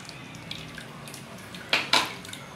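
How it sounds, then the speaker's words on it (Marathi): Freshly extracted coconut milk for sol kadhi drips and pours into a kadhai, quiet trickles broken by two louder splashy gushes near the end. "असं दूध खाली येते कढईमध्ये."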